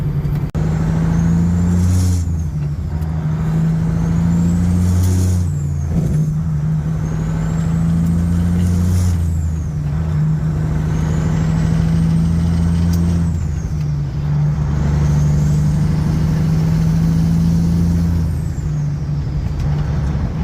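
A car with a newly replaced camshaft position sensor accelerates hard through every gear, the engine note rising and dropping with each shift, loud and continuous against road and wind noise, with no one talking.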